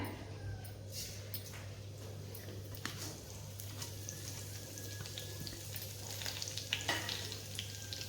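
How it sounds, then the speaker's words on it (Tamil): Cumin seeds and curry leaves spluttering in hot oil, frying for a coconut stir-fry, with a steady quiet sizzle and scattered small pops over a low hum, no voices. "கருவேப்பிலை ஜீரகம் பொரிஞ்சிடுதுங்க"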